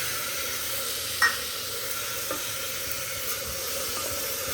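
A tomato drops into a hot oiled pan, giving a small splashing hiss over a steady, moderate sizzle that carries on evenly with a few faint clicks afterward.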